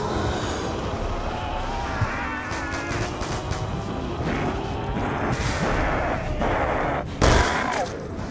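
Gunshots in Call of Duty Black Ops 2 Zombies, likely from a pistol: scattered single shots crack over a busy game background. A louder, heavier blast lands near the end.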